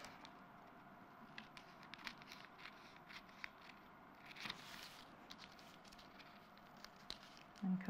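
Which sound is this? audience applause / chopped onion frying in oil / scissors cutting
scissors cutting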